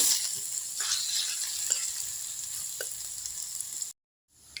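Garlic frying in coconut oil in a pan, with a steady close sizzle and crackle that runs for about four seconds and then cuts off abruptly.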